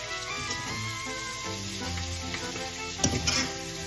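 Pancit noodles fry in a hot pan with a steady, crackling sizzle and bursts of stirring and scraping. A sharper clatter comes near the end, loud and close, with no voices.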